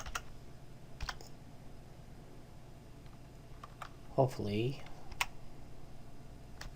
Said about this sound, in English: So if I were to start typing something